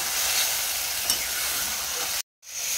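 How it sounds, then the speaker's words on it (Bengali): Spice masala of turmeric and chili powder with a splash of water sizzles hard in a pan as it is stirred. A dense, loud, continuous hiss cuts out briefly near the end, then resumes. "অল্প করে একটু জল দিয়ে মশলাটাকে খুব ভালোভাবে কষিয়ে নেব"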